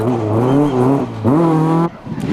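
A rally car at full speed on a stage of the 2002 Rally of the Lakes, its loud engine screaming and shifting pitch through gear changes as it passes close by, with no voices over it.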